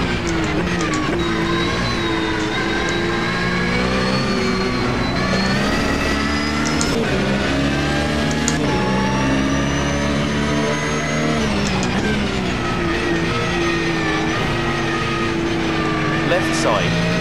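Porsche 992 GT3 engine in the Automobilista 2 racing game, revving hard and continuously with rising and falling pitch throughout, loud and close, with a voice talking over it in places.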